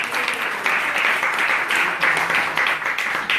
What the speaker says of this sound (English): Let's give Bo-May a big round of applause as well.